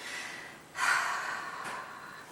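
A single deep breath drawn and let out during a progressive muscle relaxation exercise, a soft airy rush that swells and then trails off, close and fairly quiet with no talking over it.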